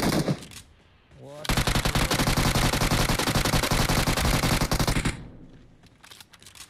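Sustained machine-gun spray fire in the video game PUBG Mobile, a loud, rapid unbroken burst lasting several seconds, followed by a few scattered shots, with brief talk before it.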